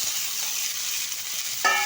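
Chopped tomato dropped into hot fried spice tempering for a quick chutney, a steady bright sizzle with faint stirring, then a clink near the end, with no talking.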